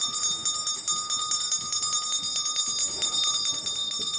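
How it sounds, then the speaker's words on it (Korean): An electric school bell rings continuously at the start of class in a small school in a Mongolian nomad village in winter, a steady bright metallic ringing with a rapid rattle throughout, loud and alone. "수업 시작을 알리는 종이 울립니다."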